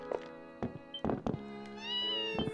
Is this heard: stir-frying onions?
no